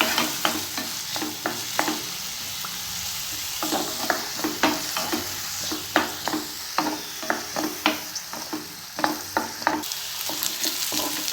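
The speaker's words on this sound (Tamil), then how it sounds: "அதையும் சேர்த்து நல்லா வதக்கிக்கலாம். வெங்காயம் நமக்கு நல்லா வதங்கணும்." Finely chopped onion sautéing in a pan with constant sizzling, punctuated by regular sharp scrapes of a spoon stirring, close and steady with no voices.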